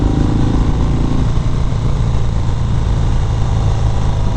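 A 2019 Harley-Davidson FXDR 114 motorcycle rumbles while being ridden, a loud, dense, continuous low engine throb mixed with road noise and no voices.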